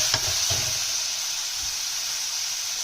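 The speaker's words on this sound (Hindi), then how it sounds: "इसको हम थोड़ी देर भूनेंगे" Onion masala sizzling in a pan for white bean curry, a steady bright frying hiss with a few soft stirring knocks near the start, close and continuous.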